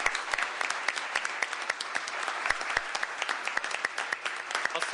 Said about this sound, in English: give them a round of applause for the great work